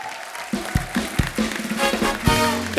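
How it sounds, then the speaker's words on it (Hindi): Studio audience on a comedy show breaks into applause, a short swell of clapping with a few sharp individual claps, moderately loud. "आइए जोरदार तालियां हो जाए हमारे सारे फनकारों के लिए।"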